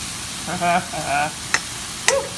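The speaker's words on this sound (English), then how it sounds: "Stir this around." A spoon stirs meatloaf mixture with dehydrated onions in a sizzling pan, giving soft scraping strokes and two sharp clinks of utensil on metal, with a brief voice-like tone in between.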